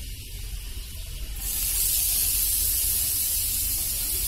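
Onion goes into a hot pan and a sudden loud hiss bursts up, then settles into a sustained, close sizzle with no talking.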